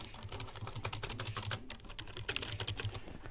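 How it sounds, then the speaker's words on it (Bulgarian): An old computer keyboard being typed on: a dense, steady patter of quick key clicks at a brisk rhythm over a low constant hum, faint and close with no talk. "Това беше старата ми клавиатура."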